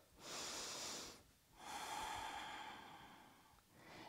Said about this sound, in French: Prends une profonde inspiration et une profonde expire